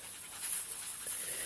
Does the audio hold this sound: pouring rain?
no